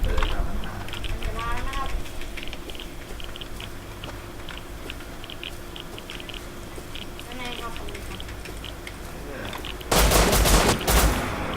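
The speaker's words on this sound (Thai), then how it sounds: "โอ้ได้ยินเสียงปืนแล้วครับได้ยินเสียงปืนแล้ว" Rapid bursts of gunfire crackle through the scene in the game Rust, with a louder volley near the end, under a busy game soundscape.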